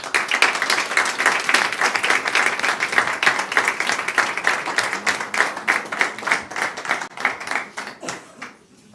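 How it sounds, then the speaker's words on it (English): A competition audience applauds a young chef with sustained, lively clapping from many hands, steady at first and then thinning and fading away at the end. "A round of applause for Giulia Cassano."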